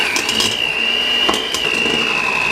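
Electric hand mixer with beaters breaking up cream cheese on low speed, a steady whirring motor hum with a constant high whine, close and continuous without pause.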